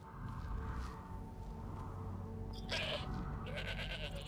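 A goat in the video game SkyRoam bleats in short, moderately loud cries over a low game background.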